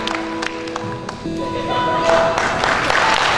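Parents at a school parents' gathering applaud for a guest, a wash of clapping that swells midway and continues loudly alongside speech and crowd murmur.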